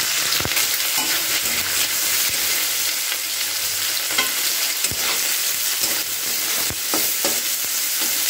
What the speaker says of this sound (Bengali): এবার আমি এই তেলেতে সবজিগুলো আস্তে আস্তে ভেজে নিচ্ছি। এখানে গাজর আর বিনসটাকে প্রথমে দিয়ে দিলাম।